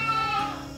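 Goats bleat from inside a barn or shelter on a pasture farm that also keeps cows and chickens, giving one sustained, wavering call at moderate volume that fades slightly toward the end.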